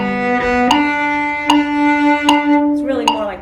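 A bowed cello plays a short phrase in a lilting, uneven long-short swung inegal rhythm, near triplets, notes changing with soft, distinct attacks.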